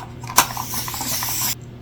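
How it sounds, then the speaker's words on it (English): A spray bottle misting root rot solution onto a houseplant during repotting: a sharp click, then a close continuous hiss of spray lasting over a second, ending with another short click. "spray her with some of our solution for root rot"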